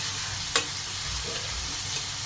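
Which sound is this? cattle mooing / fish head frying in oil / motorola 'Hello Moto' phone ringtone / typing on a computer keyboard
fish head frying in oil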